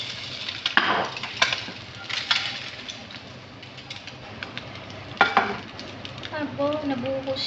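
A sunny-side up egg fries in oil in a pan with a steady, soft sizzle. Scattered scrapes and taps punctuate the sizzle, and faint chirps sound in the background.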